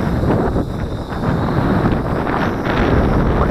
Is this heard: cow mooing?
no